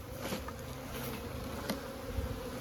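A steady, dense buzz of many honeybees, close and continuous, with a few brief knocks and rustles in the background.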